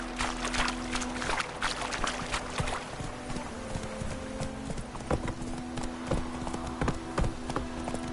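Horse hooves clip-clop steadily at a trot across the whole stretch in The Witcher 3, a dense rhythmic beat over a constant low hum and game ambience, with no talking.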